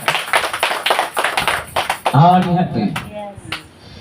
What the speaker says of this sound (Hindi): कोई है जो प्रभु के लिए ताली बजा सकता है?